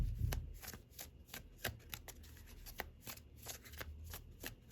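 A tarot deck is riffle-shuffled up close, giving a steady run of crisp, papery card flicks with a soft rhythmic flutter throughout, moderately quiet and without any voices.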